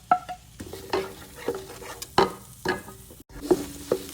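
Garlic sautéing in a pan gives a soft, steady sizzle, punctuated by sharp, ringing clanks of a spatula striking the metal pan every half second or so.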